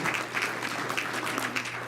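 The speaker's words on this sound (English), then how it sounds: "give him a round of applause for doing an outstanding job" A conference audience applauds the master of ceremony at a tribal economic outlook event, with dense, continuous clapping filling the room for the whole stretch.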